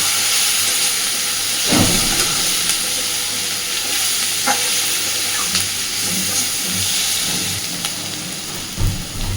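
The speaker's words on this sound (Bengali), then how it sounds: "সুন্দরভাবে সব কিছুকে মিশিয়ে একটু ভেজে নেব" Water spinach (kalmi shak) mixture with turmeric sizzles and hisses steadily in a pan while being stirred, with a few louder scraping stirs and clatters standing out over the continuous frying.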